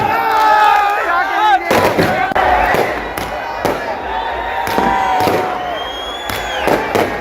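Fireworks crackle and boom repeatedly over a loud, cheering crowd in Jammu celebrating India's cricket win over Pakistan, with steady bursts of bangs and shouting voices filling the street throughout.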